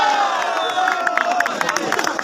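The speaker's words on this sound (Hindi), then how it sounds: "तमाम साहबान के नाम से जोरदार ताली होनी चाहिए जी" A crowd at a tournament prize ceremony in Kohat applauds and cheers in a dense, steady patter of claps with crowd noise and murmuring voices underneath.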